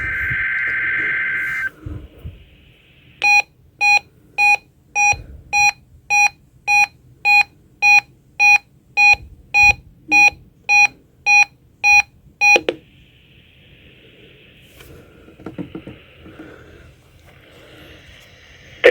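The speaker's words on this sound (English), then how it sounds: "has just activated the warning alarm on 13 weather radio stations across central and southern Minnesota" A National Weather Service weather radio warning alarm from Chanhassen, Minnesota, during a required weekly test: a brief steady tone, then about fourteen loud, evenly spaced electronic beeps, followed by near silence.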